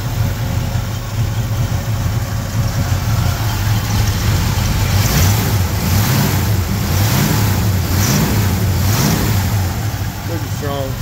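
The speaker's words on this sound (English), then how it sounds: "Motor sounds great, good and strong, no ticking or exhaust leaks or anything like that." A 1957 Chevy 3100 Stepside pickup engine runs steadily at idle with a few gentle revs, a loud close mechanical drone, while someone talks over it.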